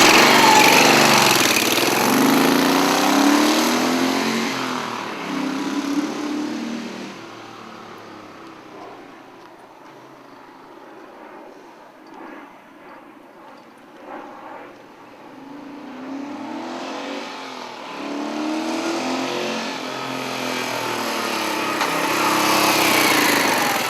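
A 1973 Moto Guzzi Eldorado motorcycle, unrestored civilian model with original used mufflers, runs steadily nearby, rising to louder revs at the start and end with a quieter idle stretch in between, with no speech.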